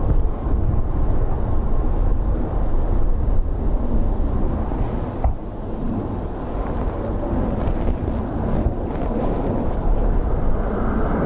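An airliner touching down at Dublin Airport on a windy day with reverse thrust deployed, a steady loud broadband roar heavily buffeted by wind noise against the microphone for the whole stretch, no voices.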